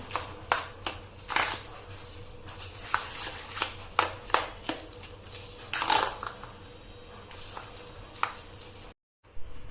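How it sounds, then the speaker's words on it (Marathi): Moong dal batter seasoned with asafoetida and coriander powder is beaten in a bowl for crispy fritters, giving a run of wet slapping and clinking strokes in irregular bursts, close and fairly quiet, with a brief dropout near the end. "चांगलं मिक्स करून घ्यायचं आता हे बघा असं फेटून घ्या"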